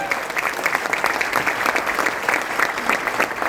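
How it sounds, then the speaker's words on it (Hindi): Audience applauding a legendary guest at a stage event, dense steady clapping from a crowd at moderate loudness, continuing evenly throughout. "तालियां तो बनती हैं"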